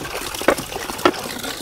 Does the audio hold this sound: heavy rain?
no